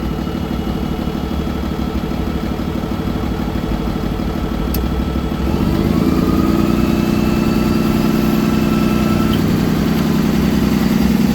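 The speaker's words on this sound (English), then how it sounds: "on this side you'll hear a click and the truck will activate the high rev for the PTO" Diesel engine of a 2012 Freightliner M2 Altec forestry bucket truck idles steadily nearby, then steps up to a higher, louder rev partway through and holds it evenly for PTO operation.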